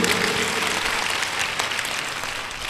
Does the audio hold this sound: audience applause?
yes